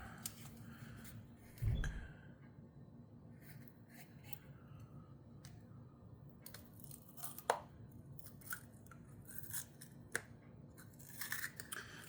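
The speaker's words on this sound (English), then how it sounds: "this paper is tearing" Calligraphy paper being torn and peeled from an ink set, a few short rips and crisp crackles spread over a quiet room, one sharper tear near the start and scattered small rustles after.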